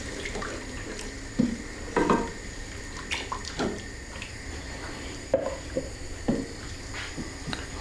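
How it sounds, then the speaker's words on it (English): Stock is poured into a pan of cooking onions and mushrooms, a soft liquid splashing and trickling with scattered clinks of utensils against the pan, fairly quiet and close. "We now want to add in our stock."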